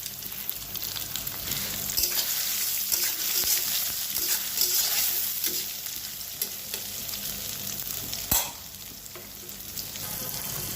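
Soybean chunks sizzle in a frying pan with a steady crackle, and a spoon scrapes and stirs them now and then, including one sharp clack near the end.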